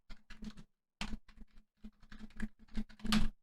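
Computer keyboard keys typed in quick irregular bursts with short pauses between them, close and fairly quiet, while someone codes an error handler for a MERN stack app.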